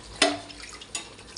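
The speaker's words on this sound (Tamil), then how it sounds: "நம்ம அதே டம்ளரில் தண்ணி ஊற்றிக்கிடுவோம்" Water poured from a tumbler into a pot of rice and chicken for biryani, a brief splashing pour followed by a second shorter splash, close and clear with no talk.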